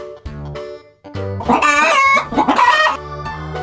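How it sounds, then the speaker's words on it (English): A farmyard chicken clucks and a rooster crows in a loud, wavering call through the middle, framed by cheerful repeating background music before and after. "Chicken."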